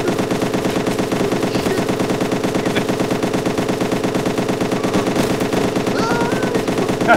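Sustained automatic fire from an RPK machine gun in the game DayZ, a fast steady rattle of shots running unbroken for the whole stretch, loud and close.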